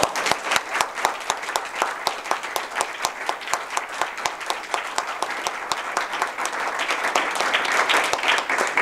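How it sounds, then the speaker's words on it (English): A small club audience at a Toastmasters evening applauds their special speaker, individual claps distinctly audible in a brisk, fairly close rhythm that thickens and grows a little louder toward the end. "let's have a round of applause for Dr. Knoll again, our special speaker"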